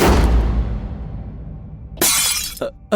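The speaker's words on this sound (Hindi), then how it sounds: "अरे ये चाय तो गिर गई" A cup of tea falls and shatters in a horror story scene, a loud sharp crash of breaking crockery following a fading resonant tail, with smaller clinks of fragments afterward.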